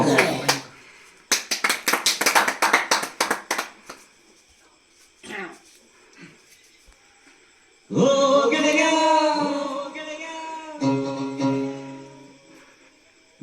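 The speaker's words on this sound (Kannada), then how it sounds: "ದಯವಿಟ್ಟು ಪ್ರೇಕ್ಷಕರೆಲ್ಲ ಚಪ್ಪಾಳೆ ಮೂಲಕ ಅವರಿಗೆ ಅಭಿನಂದಿಸಬೇಕು" An audience at a Kannada comedy singing show breaks into a short burst of brisk clapping, followed by a stretch of loud, sustained music.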